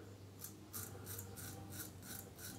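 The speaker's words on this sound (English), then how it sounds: "this thing is shaving like a champ" Strokes of a Merkur Futur safety razor shaving through brushless shaving cream, about seven short raspy scrapes in a steady rhythm, close and clear with no talk.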